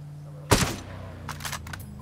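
A single sharp gunshot cracks out in the video game Ghost Recon, followed by a few quieter, distant shots in quick succession.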